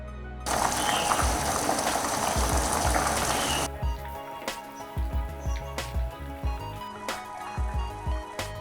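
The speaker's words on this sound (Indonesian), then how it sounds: "Lanjut dimasak dengan menggunakan api sedang agak besar hingga mendidih dan pasta matang" A pot of macaroni bubbles vigorously at a boil over medium-high heat for a few seconds, then cuts off, leaving quieter scattered taps and knocks.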